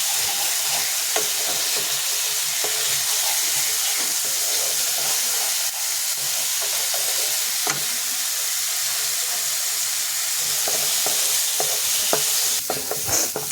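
Spice masala stir-fried in a pan while making kalia, a loud, dense, continuous sizzle and hiss broken by frequent clinks and scrapes of a spatula, with no voices.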